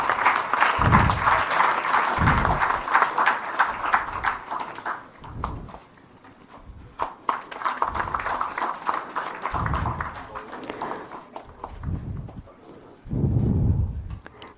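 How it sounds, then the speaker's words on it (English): Applause at a government MoU signing ceremony in Goa, loud and uneven clapping that swells and fades in bursts, with heavy thumps marking the pauses between rounds. "So let us welcome once again this MoU signing with a round of applause."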